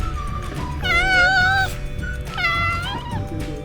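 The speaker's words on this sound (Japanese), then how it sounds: "めっちゃ可愛く泣くじゃないのよー" Two drawn-out, high meows from a friendly, affectionate cat on Yushima, a cat island in Kumamoto, Japan, heard close up against a low outdoor rumble with no talking.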